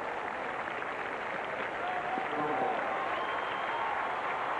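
A tennis crowd at the 1991 US Open, Edberg against Chang, applauds continuously, a dense steady clapping heard from a distance, with some faint voices mixed in.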